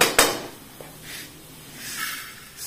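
Fried flattened rice (poha) is scraped from a frying pan onto a plate, with a sharp metallic clank near the start followed by softer scraping and rustling sweeps.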